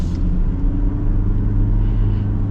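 A Ford Ranger pickup truck's engine accelerates with a deep, steady, loud rumble heard from inside the cab.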